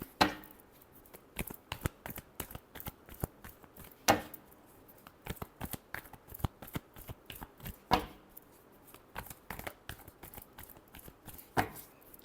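Tarot cards are shuffled by hand in quick, close bursts of papery flicks and soft slaps that repeat with a few louder riffles spaced through the run.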